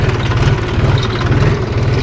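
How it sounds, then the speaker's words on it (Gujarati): A tractor driven in a farm field gives a loud, close, steady low engine throb with a pulsing rhythm, heard alone. "પપ્પા ને ટ્રેક્ટર ચલાવી રહ્યા છે ખેતરમાં."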